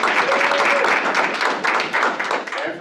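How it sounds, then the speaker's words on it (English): A room of colleagues at a team meeting applauding, with dense, steady clapping from many hands throughout, close and fairly loud, plus some voices mixed in. "let's give them a round of applause"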